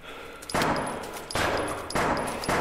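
Gunfire in a scary first-person video game, sounding as three sustained loud bursts of rapid shots with short gaps between them, no talking.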